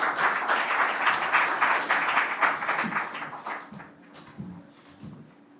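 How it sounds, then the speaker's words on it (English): Guests at a bank branch commissioning ceremony applaud a government trade envoy, a full round of clapping that gradually thins and fades, leaving a few scattered claps and low room noise at the close. "A round of applause for her."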